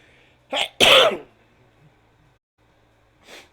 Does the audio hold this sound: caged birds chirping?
no